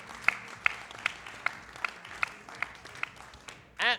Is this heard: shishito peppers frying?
no